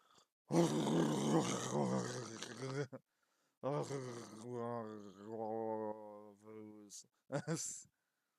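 A voice imitates loud snoring, with long, rough, drawn-out rasps broken by short pauses and a few brief bursts. The sound is close and fills most of the stretch.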